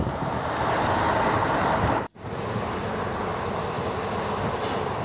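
A passenger train running between Vinukonda and Guntur, heard from inside the carriage as a steady, loud broadband rumble and rush that briefly cuts out once before resuming.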